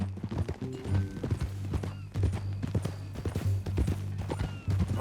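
Horse hooves clip-clop in a steady walking rhythm in Red Dead Redemption 2, close and distinct, with low ambient hum and brief bits of other game sound around the steps.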